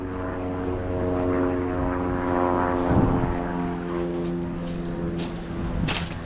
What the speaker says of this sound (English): Another wee propeller plane.